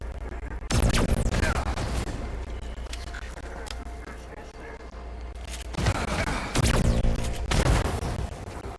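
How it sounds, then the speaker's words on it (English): Overcharged mag pulse weapon fire in the System Shock remake against a SecBot robot: loud bursts of blasts at the start and again near the end, with a rumbling game soundscape between them. "Shots from the overcharged mag pulse will get you a SecBot, that's for sure."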